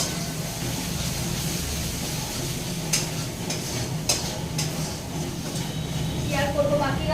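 Masala spice paste stirred and frying in a pan, a steady sizzle with occasional scraping clinks of the spoon, running continuously at close range.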